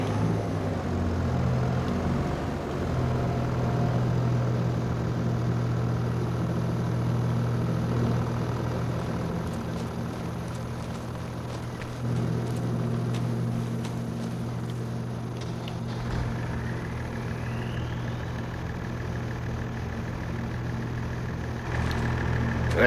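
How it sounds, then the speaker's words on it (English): A motor idles steadily throughout, a low constant hum with a strong fundamental drone, close and even; partway through a faint higher whine rises and holds alongside it, with no speech over the engine. "Let's turn the engine off on this one."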